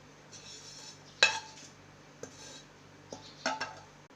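Grated coconut, toasted reddish, is scooped from a pan onto a plate with a few sharp scraping clinks of a spoon against metal, spaced out over a quiet background.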